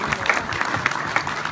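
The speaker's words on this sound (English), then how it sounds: "Give him a round of applause" Applause from a banquet audience honoring an old BMW competitor at a BMW club dinner, a dense wash of many hands clapping steadily and fairly loud throughout.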